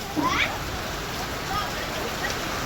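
Rain falling steadily in an outdoor setting, a continuous soft hiss of drops throughout, with brief voices and splashing sounds near the start.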